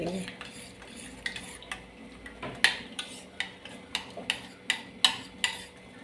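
A spoon stirs homemade turmeric (Kurkumin) soap mixture in a bowl, giving a regular series of close, bright clinks against the sides over a quiet background.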